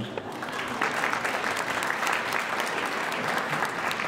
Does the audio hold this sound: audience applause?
yes